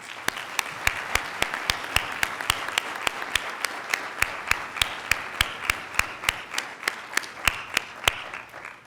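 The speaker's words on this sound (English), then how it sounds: "let's all join together and give all of our speakers a final round of applause" Commencement ceremony audience applauds for the speakers: a broad wash of crowd clapping, with one nearby clapper's sharp, evenly spaced claps standing out steadily throughout.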